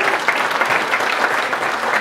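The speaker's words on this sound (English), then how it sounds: "give all those guys a massive," Seminar audience gives a dense, continuous round of applause, many hands clapping steadily and fairly loudly for a couple of seconds.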